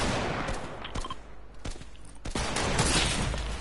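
Gunfire from a sentry in a shooter video game, a dense fusillade of overlapping shots that runs almost without pause, with a few sharper cracks standing out in the barrage.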